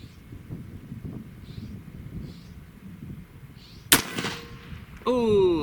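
A Zeus .72 caliber air rifle fires once at a gopher outdoors, a sharp loud crack standing out over steady wind and low background noise, followed by a brief rising whine and rustle.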